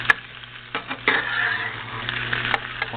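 Broccoli rabe being stirred in a hot pan, with a soft scraping and steady low sizzle, a few sharper clinks of the utensil against the pan, close and moderately quiet.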